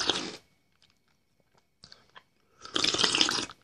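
Close crunching bites into a dried hot pepper, a short crisp snap followed by a few faint chews and a louder burst of dry crunching and chewing.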